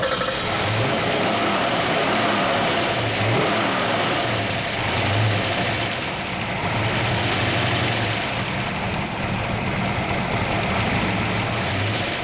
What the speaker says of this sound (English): Listen to that idle.